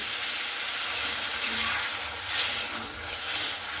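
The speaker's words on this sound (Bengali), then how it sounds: "এরপরে দিয়ে দিচ্ছি জল মাপ মতো।" Steady, loud hissing and sizzling as water is poured into hot spiced potato masala in a pan, a continuous broadband rush that swells slightly midway with no voices.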